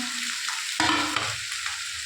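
Brinjal, ridge gourd and green chilli fry together in a pan with a constant sizzling hiss, broken by a sharp surge of crackle when the vegetables are turned.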